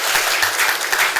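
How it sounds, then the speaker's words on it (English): An audience in a room applauds at a sports-inclusion gathering, a dense burst of clapping that stays loud and steady for about a second with no voices over it. "Let's give a clap to them."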